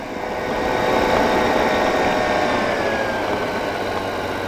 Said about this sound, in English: This engine doesn't seem to like idle at the minute